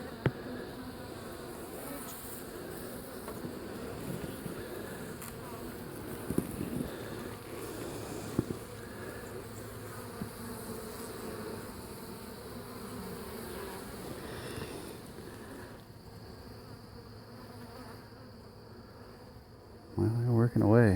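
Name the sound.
honeybees buzzing at the hive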